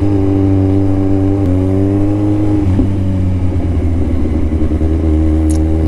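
Motorcycle engines rev hard nearby in a loud, continuous drone, with pitch shifts as machines accelerate and pass. A clattering note comes through partway and no one speaks.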